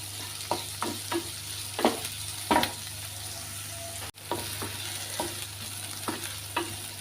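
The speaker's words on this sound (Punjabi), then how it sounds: "ਪਿਆਜ਼ ਨੂੰ ਵੀ ਅਸੀਂ ਜ਼ਿਆਦਾ ਡਾਰਕ ਬਰਾਊਨ ਨਹੀਂ ਕਰਾਂਗੇ ਹਲਕਾ ਜਿਹਾ ਹੀ ਬਰਾਉਨ ਕਰਾਂਗੇ" Chopped onions frying in oil in a pan until light brown for a Punjabi-style aloo gobi, with a soft continuous sizzle broken by several sharp scraping stirs of a spoon against the pan.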